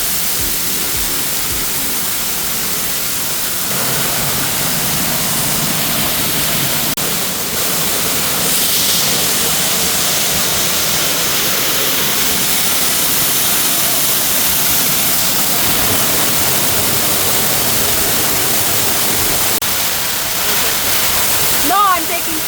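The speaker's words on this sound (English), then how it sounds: "Now only socks and going under the waterfall." A loud, unbroken roar of the waterfall at Canaima, Venezuela, heard from right underneath the falling water, dense and steady for the whole stretch.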